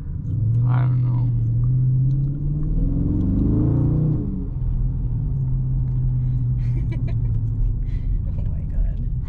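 2019 Dodge Charger R/T Scat Pack 392 Daytona Edition V8 rumbling in sport mode on a test drive, swelling into a loud rev around the middle, then settling to a steady cabin drone while people talk.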